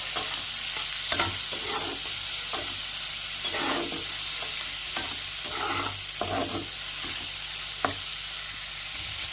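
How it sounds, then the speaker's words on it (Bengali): Shrimp seasoned with salt and turmeric fry in hot oil in a kadai, giving a steady sizzle broken by repeated scraping stirs of a spatula, close and with no talking. "একটু হালকা করে চিংড়ি মাছটাকে ভেজে নেব"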